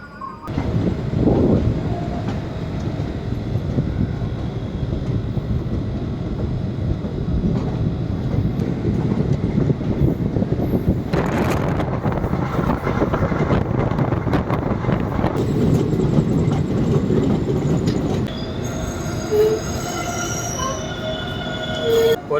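Sri Jagannath Express running from Shalimar toward Puri near Balasore, with a loud, steady rumble of wheels on track and intermittent squealing throughout, the noise easing slightly toward the end.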